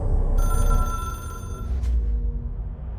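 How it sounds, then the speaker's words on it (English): Telephone ringing in the video game Control, an old-style phone bell trilling in a steady burst that cuts off abruptly, over a low ambient rumble. "It is a phone."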